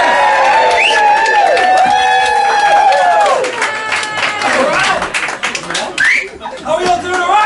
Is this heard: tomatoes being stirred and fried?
no